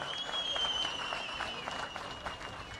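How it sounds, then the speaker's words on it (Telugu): A crowd applauding at a political rally addressed by Andhra Pradesh CM Chandrababu, heard as a dense, steady wash of clapping from a distance with a thin whistle-like tone running above it. "ఎదుర్కోవాలంటే గట్టిగా చప్పట్లు కూడా చెప్పండి"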